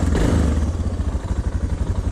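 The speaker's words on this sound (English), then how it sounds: "Bike sounding good." A motorcycle engine idles close by, a loud, steady low pulsing chug with a brief rise at the start, heard alone.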